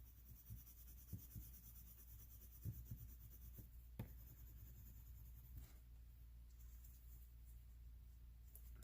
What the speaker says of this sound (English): I'm just working that pencil around her forehead